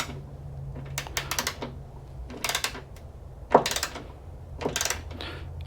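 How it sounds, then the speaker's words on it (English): Tools fasten the hood strut bolts on a Toyota MR2 Spyder in short bursts of ratcheting clicks, several quick runs separated by pauses, near and fairly quiet. "Now we're going to tighten these down."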